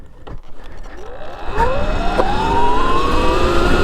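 A Surron electric dirt bike launches in a top speed test, its motor whine rising steadily in pitch as it gathers speed, loud and close with wind noise and no talk.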